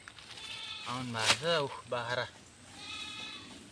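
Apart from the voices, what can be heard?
goats bleating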